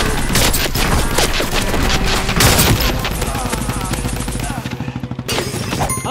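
Rapid, dense bursts of water-gun fire rattle through a Spyra battle royale game, loud and continuous with overlapping shots and clatter throughout.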